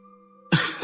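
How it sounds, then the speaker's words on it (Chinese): Several people clear their throats together in a temple hall after a long silence, a sudden close burst of rough, gravelly throat noise. "玉清殿里一阵清嗓子的声音"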